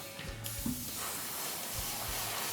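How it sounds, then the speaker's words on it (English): An airbrush spraying thinned matte varnish over a miniature Chaos Space Marine biker base, a steady close hiss of air and spray that begins after a short click and runs continuously to the end. "I've got some of my airbrush ready to go."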